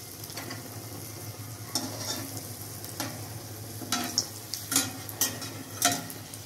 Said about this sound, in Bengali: মা বেগুনি ভাজছে।